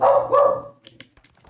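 A puppy lets out two loud, close barks in quick succession, followed by quieter rustling and small clicks indoors.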